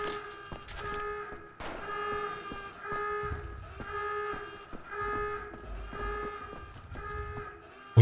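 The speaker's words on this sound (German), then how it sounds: "Wie schlägt der eine denn bitte Alarm?" Alarm in the castle in Wolfenstein: The Old Blood, a repeating electronic blaring tone pulsing in regular bursts with brief gaps, loud and steady over low background rumble.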